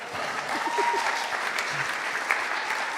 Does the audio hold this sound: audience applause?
yes